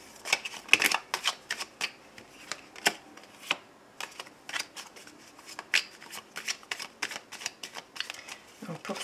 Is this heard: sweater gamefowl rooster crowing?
no